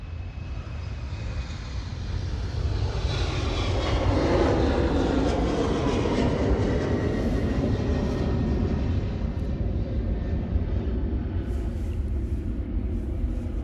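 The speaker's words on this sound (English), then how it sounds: "Let's go for the Air Dolomiti takeoff." An Air Dolomiti airliner taking off at Munich, its engines roaring in a steady, loud, broad rumble that swells and then holds as the aircraft climbs away, with no voices over it.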